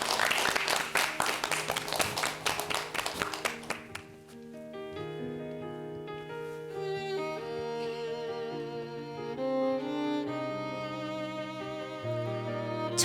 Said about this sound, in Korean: 여러분 박수로 맞아주십시오